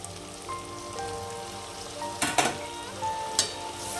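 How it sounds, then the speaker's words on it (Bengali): Fried fish and taro stolons in mustard paste being stirred in a pan: a soft, low sizzle carries under a few sharp clanks of the spatula against the pan, close by and without speech. "নাড়াচাড়া করে নেব"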